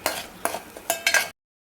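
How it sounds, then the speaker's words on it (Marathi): Spice masala being sautéed in oil for a white mutton or chicken curry, heard as a few distinct scraping stirs in a pan with faint frying underneath, close and alone. "चांगला परतून घ्यायचा।"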